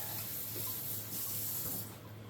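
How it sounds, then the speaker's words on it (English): Hands being washed under a running kitchen tap while cooking, a steady close hiss of flowing water that tails off slightly at the end. "Give my hands a quick wash."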